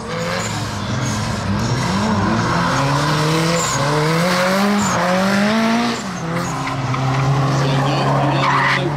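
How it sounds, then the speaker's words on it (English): A drift car at a drift contest spins out with long wailing tire squeals over a revving engine, loud and close, as the squeals rise and fall in pitch while someone talks. "Spin out from the gray car."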